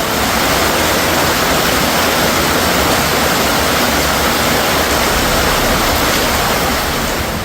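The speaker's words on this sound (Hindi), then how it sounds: "कहीं बूंदाबांदी तो कहीं मूसलाधार बारिश हो रही है" Heavy monsoon rain pours down steadily during flooding in India, a dense, loud, unbroken hiss of falling water with no gaps and no voices.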